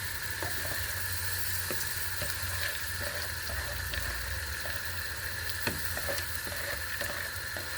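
Bulgur fries in a pan with well-sautéed onions, giving a soft continuous sizzle close by with scattered light clicks and scrapes of stirring, and no talking.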